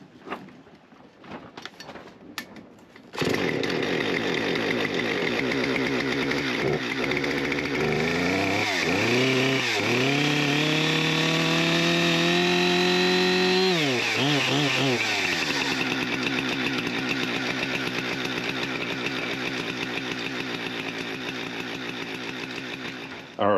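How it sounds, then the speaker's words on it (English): A Husqvarna 460 Rancher chainsaw starts after a short stretch of quiet and keeps running loudly and close for about twenty seconds, its engine pitch climbing and revving several times before easing back to a steady, slightly rough idle. "let's get the chainsaw started."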